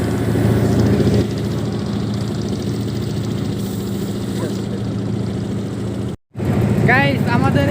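Steady low engine drone of a boat moving along the Padma river near Mawa Ghat, continuous and fairly loud with a constant hum, briefly cutting out near the end before resuming.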